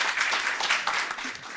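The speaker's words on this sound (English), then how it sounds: "Please give this panel a round of applause" Audience applause for a panel at a seminar on standardisation for the steel industry's climate transition: a dense, steady wash of many hands clapping at once, fairly loud and unbroken, with no voices over it.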